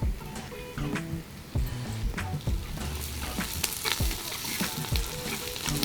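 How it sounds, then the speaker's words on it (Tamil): Curry leaves drop into hot oil for a brinjal kuzhambu and burst into a loud, close crackling sizzle, joined by scattered spoon clinks and stirring, with no voices. "இப்போ கருவேப்பிலை போட்டுக்கலாங்க"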